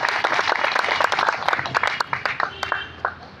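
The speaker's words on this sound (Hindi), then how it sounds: "इनके लिए एक बार जोरदार ताली बजाना चाहिए।" Audience clapping for library staff at a gathering, with dense, close applause throughout and sharp, uneven hand claps over crowd noise.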